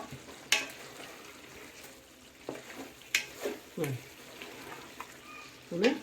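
Chicken roast frying in a pan, soft sizzling with scattered stirring clatters and scrapes up close, and a voice talking quietly at times.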